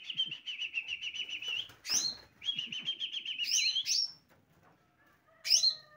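A small green leafbird sings rapid repeated chirping trills in a mini aviary, two long bursts with sharp whistled notes between, then a brief pause and a final chirp, close by.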